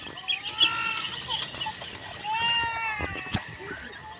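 Quail in a small backyard enclosure give bright, repeated chirps and calls close by, rising and falling in short bursts over faint background noise.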